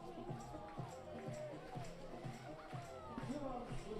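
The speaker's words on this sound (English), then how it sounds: "Crowd really into it now, making a lot of noise to try to rattle the new pitcher for Parma" Baseball crowd at a European Champions Cup game between Bonn and Parma, a steady murmur of noise and rhythmic banging at the ballpark, heard under close commentator speech.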